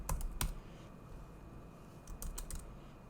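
Computer keyboard keys clatter during coding, a few sharp clustered clicks near the start, then quieter sporadic taps and another small burst of keystrokes over steady background hiss.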